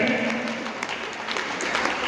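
Audience clapping for a poet at a Hindi poetry recital: steady, dense applause from a crowd, moderately loud and continuous with no gaps.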